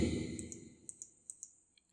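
Several sharp, light mouse clicks land in quick pairs on a computer while navigating a web browser, following a low murmur at the start.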